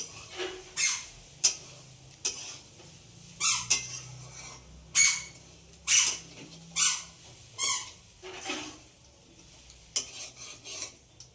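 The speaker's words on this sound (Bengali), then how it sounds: "নারকেলের সঙ্গে চিনি মিশিয়ে কড়াইতে ভালো করে মাখিয়ে" Grated coconut mixed with sugar is stirred in a wok for a Poush Sankranti pitha sweet: a spatula scrapes and clinks against the metal in a dozen or so separate strokes, close and quiet, with no talking.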